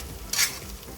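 A spoon stirs cooked spaghetti through sauce in a pan, giving a single short wet scrape and slosh against the pan, close and alone.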